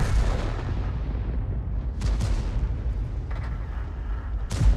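Tank cannons fire in World of Tanks, with two sharp, heavy booms over a continuous low rumble of battle and engine noise. The second shot lands near the end.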